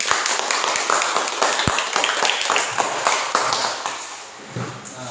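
A classroom of children claps their hands together in a dense, sustained round of scattered claps at close range, fading slightly toward the end.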